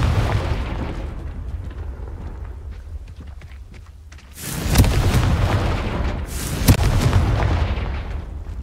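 Confringo fire spell in Hogwarts Legacy, two heavy booming explosions a couple of seconds apart over a low rumbling game background, each with a loud crackling burst that rolls off.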